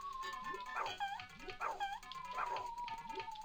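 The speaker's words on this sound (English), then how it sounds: "Stay back, you stupid dog." A dog in the video game Beethoven's 2nd lets out a repeated series of yipping barks and whines, several even bursts over a steady electronic game tone.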